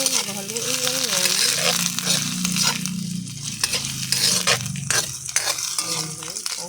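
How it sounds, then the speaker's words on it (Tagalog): Grated ginger being stirred and sautéed in a pan for mussel tinola, with a soft steady sizzle and intermittent scrapes and clinks of a spoon against the pan while a voice talks over it. "Luya guys. So, lutuin natin. Haluin lang yan."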